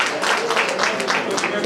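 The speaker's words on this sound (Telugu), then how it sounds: "big claps" A crowd applauds at a retirement felicitation ceremony in Kadapa, a dense, steady wash of many hands clapping at once for nearly two seconds, with voices mixed in beneath it.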